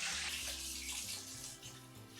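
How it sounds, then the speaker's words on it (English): Water pours steadily into a pot for a Mexican broth in a kitchen, a continuous splashing rush that runs close and fairly loud for about two seconds with no talk. "We're gonna add the water."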